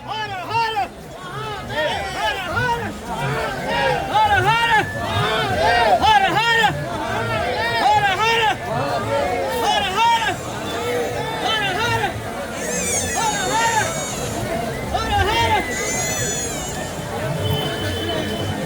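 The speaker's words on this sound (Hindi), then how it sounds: "यहाँ से देखिए ये भीड़ का समुद्र कैसे चला आ रहा है।" Dense crowd babble from a vast mass of pilgrims at the Mahakumbh Sangam, with many overlapping voices, shouts and chatter rising and falling continuously, fairly close and loud throughout.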